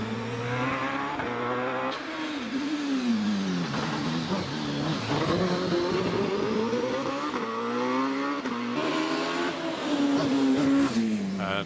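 A hillclimb race car with a 2.7 litre Partech V8 engine races up the course at Prescott. The engine revs hard and repeatedly, climbing and falling in pitch through gear changes and braking, while a commentator talks over it.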